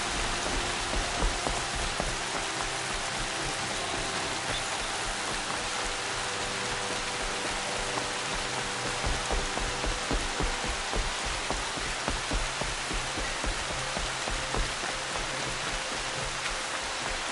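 Rain falls in a video game, a steady broadband hiss with a soft patter of drops, fairly faint and continuous, with no talk.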